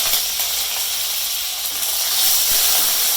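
Onion, garlic, chili and curry leaves sauté in a pan for tomato chutney, giving a steady, close hiss and sizzle that holds evenly for a few seconds without any talking.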